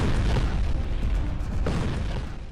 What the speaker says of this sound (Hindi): ऐसे कपा देने वाला ब्लास्ट।